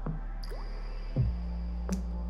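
Watery drip and squish effects layered over a deep, sustained synth drone, heard as a few separate drops across a short stretch of a K-pop song.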